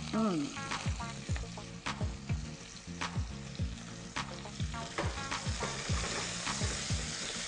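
Garlic and thyme frying in a pan as they are stirred, a steady close sizzle with repeated scraping strokes of the spoon throughout.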